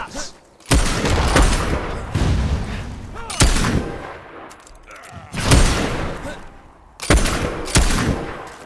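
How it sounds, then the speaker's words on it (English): Repeated bursts of enemy gunfire in the Fable 3 video game, several loud volleys at intervals over continuous battle noise and rumble, with shouting voices in between. "Suckers shooting at us!"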